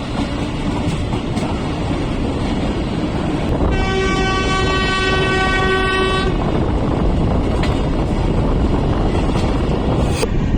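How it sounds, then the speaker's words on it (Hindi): Horn of the 12450 Goa Sampark Kranti Express sounds in one long sustained blast while the train runs non-stop through Shri Mahavir Ji station, heard over steady rolling rail noise and wheel rumble. "लगातार हॉर्न हॉकिंग करती जा रही है, तो वो स्टेशन के यात्रियों को ये सुनिश्चित करती है कि ये ट्रेन नॉन स्टॉप निकलेगी"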